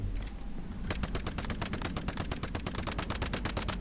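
Rapid automatic gunfire aimed at the Manibus boss in the Once Human video game, a loud, close, continuous stream of evenly spaced shots hammering away without pause.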